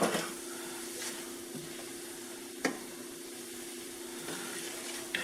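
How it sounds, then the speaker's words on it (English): Onions frying in a pan for a Cajun seafood sandwich, a soft continuous sizzle with a few clicks and stirring taps, close and moderately quiet, no one speaking. "I'm going to go ahead and throw in my onions now."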